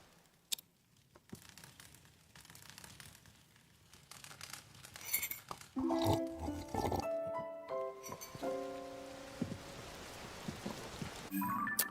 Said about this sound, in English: It is just raining non-stop.